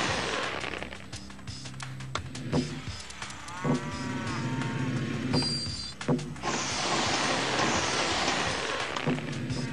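Several cows moo in the game 3D Ultra Lionel TrainTown Deluxe, long drawn-out lows repeating over a bright, noisy game soundscape.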